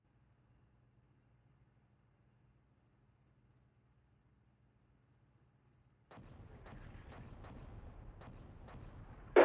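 Incoming gunfire in the Steel Beasts Pro PE tank simulation game: after several seconds of a low engine-like hum, a dense burst of sharp cracks and impacts begins and continues over rumbling noise, ending in a loud close hit.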